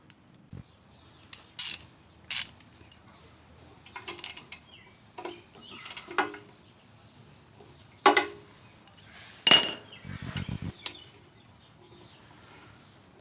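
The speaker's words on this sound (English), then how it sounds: "Just gotta pull this bolt out, take this metal bracket off" Sparse metallic clicks, scrapes and clanks as a bolt is worked loose from a metal bracket on the rear axle of a 1955 Cadillac Coupe Deville, close and intermittent with quiet gaps between.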